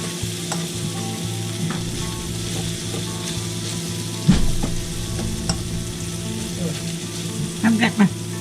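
Beef sizzles steadily in a hot pan with garlic powder added, a continuous close crackle with occasional louder spits and stirring scrapes toward the end.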